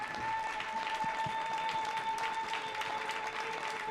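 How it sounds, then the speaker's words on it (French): A church congregation applauding at an Easter Sunday service, steady dense clapping from many hands filling the room for the whole stretch, with a sustained tone held underneath and no one speaking over it. "On l'applaudit ?"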